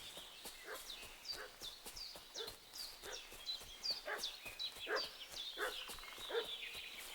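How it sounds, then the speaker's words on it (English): Dog barking in Kingdom Come: Deliverance II, a run of sharp, repeated barks at a steady rhythm over roughly seven seconds, moderately near, with clopping hoof-like knocks mixed in and no talk. "What's that dog making such a fuss about?"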